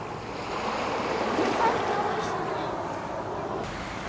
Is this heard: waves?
yes